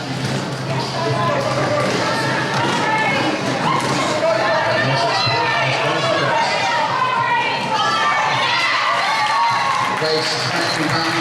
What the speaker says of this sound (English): the crowd went absolutely wild